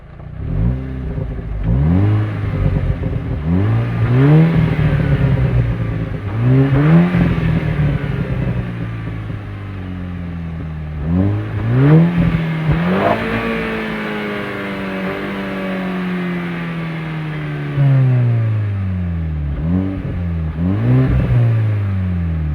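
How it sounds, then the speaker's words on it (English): A stock-exhaust 2006 Volkswagen Golf GTI Mk5 engine starts up and is revved repeatedly, its note rising and falling in several loud, close blips with no talking. "So I'll give it a little start up and a rev"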